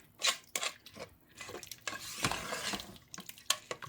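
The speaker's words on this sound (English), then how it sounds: "So now I'm going to mix in the water" Water is poured into a pot of Puerto Rican arroz con gandules and stirred with a spoon, giving close splashes, scrapes and sloshing in uneven bursts.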